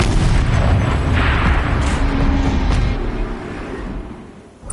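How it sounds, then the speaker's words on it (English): Artillery turret firing in the video game Horizon Zero Dawn, a heavy booming blast with a rumbling roar that holds for several seconds and then fades, loud and close with no talk. "Rotate turret! And fire!"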